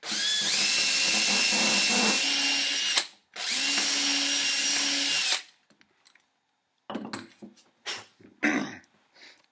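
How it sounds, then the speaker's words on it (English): A hand drill whines loudly in two sustained bursts while boring a hole in a guitar, pausing briefly between them, then stops, followed by scattered handling clicks and clatter. "held this firmly down flat, and then I drilled"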